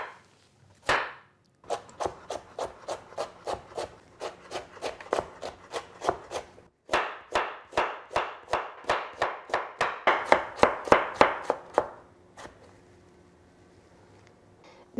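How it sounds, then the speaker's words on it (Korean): A knife chops radish into thick strips on a wooden board, about thirty crisp, evenly paced knocks close up in two runs with a brief pause between, no talking. "무는 굵은 채로 썰어 주시고요"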